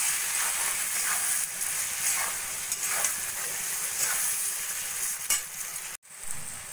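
Thinly sliced tomatoes with salt, turmeric, cumin and chilli powder fry in a pan for a turnip curry, giving a steady, close sizzle that continues without a break and without talk.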